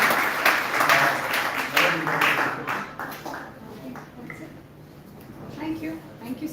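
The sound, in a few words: audience applause for a panel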